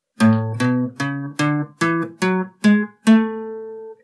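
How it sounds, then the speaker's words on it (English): A major scale: eight clear keyboard notes rising step by step in an even rhythm, the last one held and ringing out; no voices. "A major scale, for example, sounds like this."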